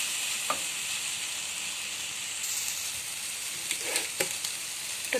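Dried jute leaves being stirred and fried with salt in a pan, giving a steady continuous sizzle with occasional sharper scrapes and clicks of the spatula, close and without talk.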